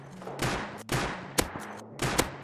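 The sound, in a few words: gunfire in Rust video game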